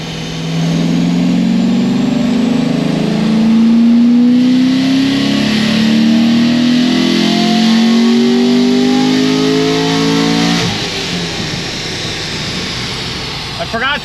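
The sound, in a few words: Chevrolet Corvette C6 Z06 engine revving with exhaust valves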